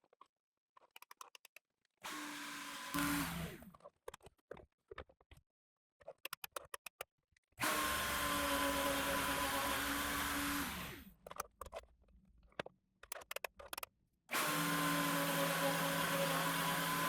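A PantoRouter joinery machine cuts a mortise in wood for an outdoor table. The router motor whines on and off in several long, loud runs. Clicks and knocks from positioning the jig fall in the gaps between runs.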